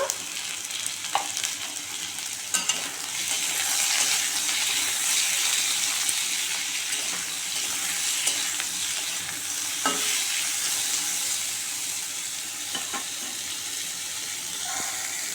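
Potatoes frying in a pan with added salt and turmeric while cooking a mushroom dish; a steady close sizzle with occasional stirring scrapes and clatter, no voices.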